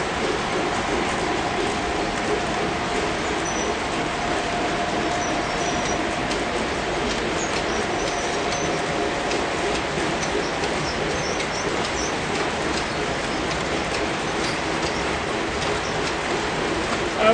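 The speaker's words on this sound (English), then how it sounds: "When the trains wrap around on these S-curves is really cool." Model trains on Fast Track layout rolling steadily through S-curves, a continuous clattering rumble of wheels on track with faint mechanical ticking, held at an even level throughout with no talking.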